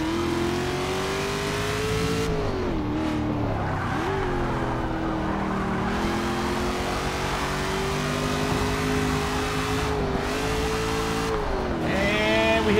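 A Ford Mustang revs hard and accelerates in a race, the engine note climbing and dropping through gear changes, loud and continuous, with a faint tire squeal near the end.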